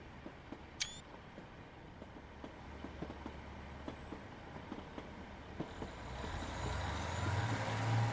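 An AP Class 150/1 diesel multiple unit runs in Train Simulator 2021 on a North London route, with steady low rail rumble, regular faint clicks of wheels over rail joints and a rising roar near the end.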